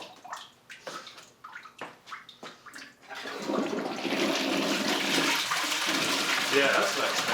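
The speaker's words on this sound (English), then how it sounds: "Let's give it another flush." A toilet that is struggling to flush properly is flushed again. After a few seconds of choppy, voice-like sounds, a loud, close rush of water takes over and keeps going strongly to the end.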